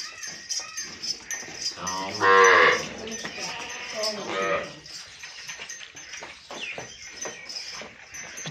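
A Cholistani cross milking cow gives a loud, drawn-out moo up close, with a second lower lowing call following, while people talk nearby throughout.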